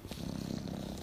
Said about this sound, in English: he purrs